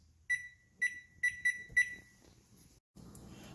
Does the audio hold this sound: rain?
no